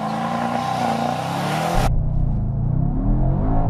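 A 2021 Mercedes-AMG E63S wagon's V8 engine roars under hard acceleration, a loud, steady rising rumble heard from inside the car that deepens and swells partway through, with no talking over it.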